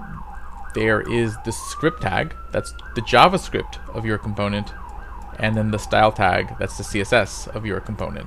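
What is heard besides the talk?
emergency vehicle sirens in the background, Brooklyn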